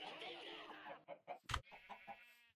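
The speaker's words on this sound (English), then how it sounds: "Yeah, so here's my chicken farm." Chickens on a farm in the Minecraft video game cluck in a few short, separate bursts after a stretch of busy background sound, close and moderately loud.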